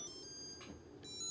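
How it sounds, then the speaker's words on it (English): A Samsung POWERBot R7070 robot vacuum sounds its obstruction alarm after sucking up a bag, a short electronic tone pattern in sustained pitched beeps, moderately loud and alone. "kind of sets off the alarm, sends me a text message"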